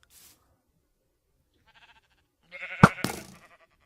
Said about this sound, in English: Oh, there's a nice sheep here.